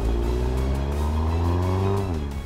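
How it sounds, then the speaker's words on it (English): A new Audi TT Coupe engine accelerates hard, a loud, close, steady drone whose tone climbs smoothly through a gear before a brief dip as the revs fall. "the car charges ahead with aplomb"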